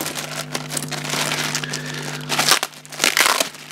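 Close, soft crinkling of a small plastic bag being handled during an unboxing of Smith & Wesson handcuffs, irregular rustles with a faint steady hum underneath.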